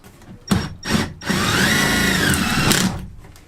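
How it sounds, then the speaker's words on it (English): A power drill drives a 3.5 by 13mm screw through the cowl into the tube while fitting a Truma D6E diesel and electric heater in a camper van: two short whirring bursts, then a steady two-second run that stops, close and loud. "you are going to screw it through the cowl into the tube"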